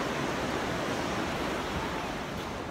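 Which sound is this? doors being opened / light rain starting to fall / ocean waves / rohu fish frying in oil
ocean waves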